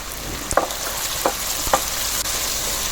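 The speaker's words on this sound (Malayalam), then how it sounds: "ആവശ്യത്തിന് എണ്ണ ഒഴിച്ചിട്ട് ചൂടായി കഴിഞ്ഞ ശേഷം അതിലേക്ക് നമ്മൾ ഉള്ളി അതിലിട്ടിട്ട് വാട്ടുക" Onions sautéing in hot oil in a pan for chicken kebab, a steady close sizzle with a few soft stirring clicks and scrapes, no voices.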